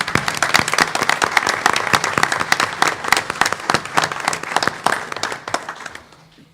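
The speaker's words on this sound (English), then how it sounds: "Let's give them a round of applause" An audience applauds award winners at a board of education meeting, the clapping close and distinct with individual claps audible, holding steady before thinning and fading out near the end.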